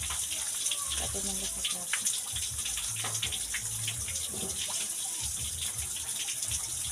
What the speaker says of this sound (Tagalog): Awas ang tubig.